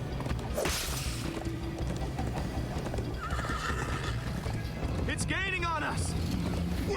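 Horse whinnying and galloping in Minecraft: Story Mode, with steady clip-clop hoofbeats, a sharp neigh near the start and another wavering whinny later, amid game music, a crash and talking characters.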